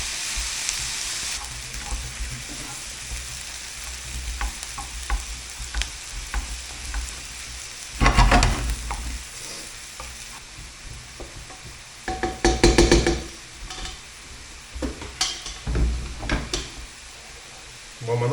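A tomato and onion mixture fries in a pan with a steady low sizzle, broken by several louder bursts of stirring and clatter, and a voice speaks faintly at times.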